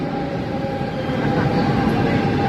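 A Paris metro train pulling into the station, a steady, loud, low rumble with rolling mechanical noise that builds slightly throughout, with faint crowd murmur mixed underneath.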